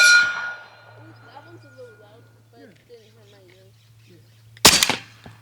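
Airsoft round from a belt-fed AEA SF 30 cal striking the left metal target post, a single sharp clang near the end over a steady low hum, after birdsong-like chirps.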